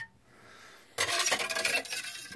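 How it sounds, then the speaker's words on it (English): Material scraped off a surface in a dense, close rasping burst lasting just over a second, after a quiet pause, with no voices. "Yep scrape some of this off."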